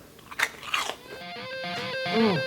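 Crunchy fried orange chicken, dusted and dipped in sauce, is bitten with two sharp close crunches, followed by a brief tonal sweep near the end.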